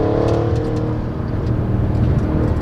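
Sports cars, including a Corvette chasing a Miata, roar past at speed, a loud, rising and falling rush of motor noise close by, with no talking.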